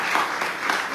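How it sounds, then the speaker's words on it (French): Warm audience applause for Jacques Attali at a talk on the world in 2030, a dense, steady wash of many hands clapping for the full second with no voices. "On vous applaudit chaleureusement,"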